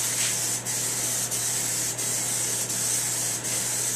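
Spray gun lays a light coat of John Deere Blitz Black paint in a close, steady hiss, broken by brief regular pauses between passes, alongside a low constant hum.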